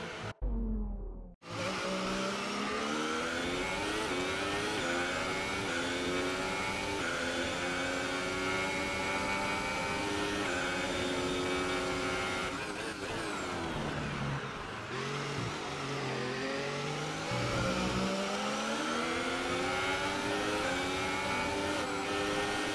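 A Formula 1 car engine at Monaco in the F1 2018 video game, loud and continuous, rising and falling in pitch as the car accelerates and shifts through the gears, with no one talking.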